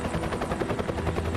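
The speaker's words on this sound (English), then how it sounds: "Helicopter's still one of my favourite sounds." A helicopter in a wilderness rescue, its rotor chopping in a steady rapid pulse, loud and close, filling the clip alone.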